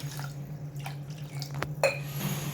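Water poured into a pot of washed lentils with turmeric, coming as faint trickles, drips and light clinks of vessel against vessel over a low steady hum, with no voices.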